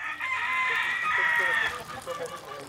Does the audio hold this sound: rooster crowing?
yes